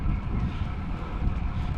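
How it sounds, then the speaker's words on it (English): Wind buffets the microphone on a bike ride in heavy, uneven low rumbles that swell and dip, loud and close, with no clear voices. "It's a windy day."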